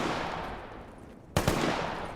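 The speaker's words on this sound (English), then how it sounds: "They're gunshots." Gunfire in the video game Stalker GAMMA: after a quiet stretch, a sudden sharp shot rings out, quickly followed by one or two more cracks and a lingering echo.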